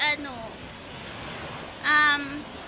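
Steady rushing rough surf roars throughout during a storm in Romblon, Philippines, with a couple of brief voices speaking over it near the start and the middle.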